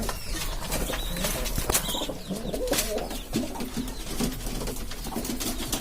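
Several pigeons coo nearby in soft, low, repeated calls, with occasional flutters of wings and a light background bustle.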